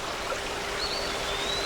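Steady flowing water where a creek runs into the Union Canal beside a towpath, a continuous gentle rushing and trickling with no one talking.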